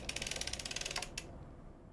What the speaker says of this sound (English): I'm going to crank around 20 times